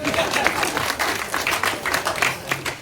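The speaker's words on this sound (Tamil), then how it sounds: "தயவு செஞ்சு நீங்களே ஒரு தடவை கைத்தட்டிடுங்க" Clapping from an audience at a Tamil film event, an uneven, swelling patter of many hands with some louder bursts and crowd murmur beneath.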